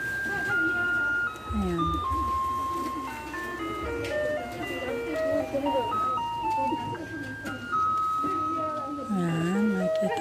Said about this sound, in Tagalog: Paparating na yung truck.